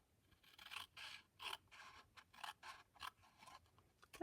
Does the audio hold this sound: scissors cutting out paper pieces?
yes